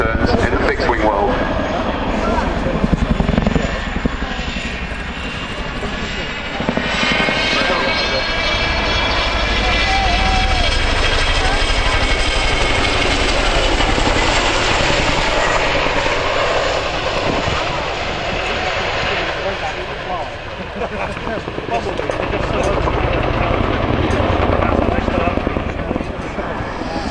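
A Chinook helicopter flies at the Cosford Airshow, a loud continuous roar of engines and rotor thump that swells and recedes over nearly half a minute, with a voice talking over it.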